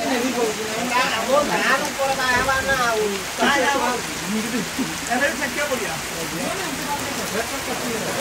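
Heavy monsoon rain pours steadily in Odisha, a constant rushing hiss beneath the voices of people talking throughout.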